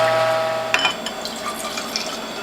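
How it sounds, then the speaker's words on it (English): Water pours from a container into juice bottles to top them off, a close, moderately loud gurgling stream with a rising pitch as the bottles fill, lasting a couple of seconds, with a few clinks. "I'm topping off my bottles with water"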